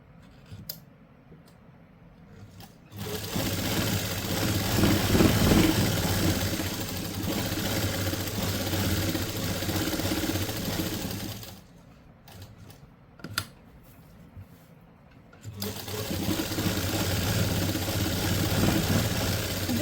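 Sewing machine running steady stitches along a suit seam, a continuous mechanical whir from about 3 to 11.5 seconds, pausing briefly, then resuming near and loud with no talk.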